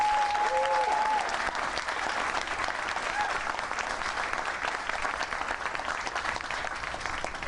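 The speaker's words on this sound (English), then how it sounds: "Let's give them all a nice round of applause." A room full of people gives steady, even applause for grant recipients at a mayoral announcement event, with a brief whistle near the start and the clapping holding at a moderate level.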